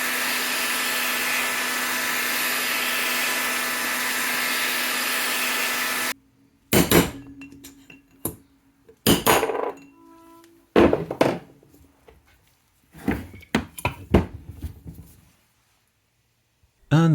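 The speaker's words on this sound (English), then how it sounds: "These are removed by heating the casing evenly and tapping out either onto a block of wood" Engine bearings being tapped out of a heated NSU Prima two-stroke engine casing onto a block of wood, a series of sharp metallic knocks and thuds, some in quick clusters, after a steady hum cuts off.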